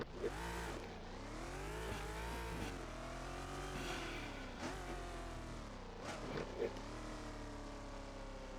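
An engine note from a car in the Roblox game Test Drive rises and falls in repeated revving sweeps, loud and synthetic-sounding, with shifts in pitch as the car accelerates and eases off, with no talking over it.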